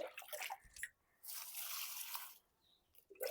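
Water is poured from a one-litre container into a pot holding three rose plants, a steady hiss of running water lasting a couple of seconds with short gaps before and after.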